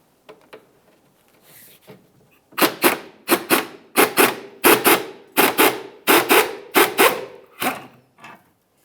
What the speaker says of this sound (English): carefully start pulling the strap downward, and pull it away up along this area